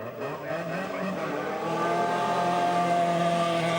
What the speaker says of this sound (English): This is the Toyota powered Escort, two-wheel drive, of course.